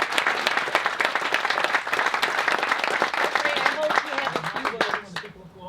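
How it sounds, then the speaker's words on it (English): Audience applause at a 2021 film festival awards ceremony, with dense sustained clapping from a crowd that continues steadily for several seconds before thinning out at the end. "People applaud"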